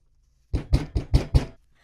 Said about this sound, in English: A clatter against his door,